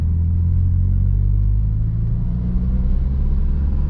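A manual car's engine hums and rumbles steadily up close after a downshift to second gear with the throttle applied, a continuous low drone with no talking.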